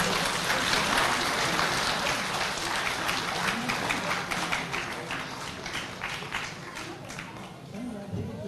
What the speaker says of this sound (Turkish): Evet, alkışlarınız bir kez daha geliyor sevgili yavrularımız için.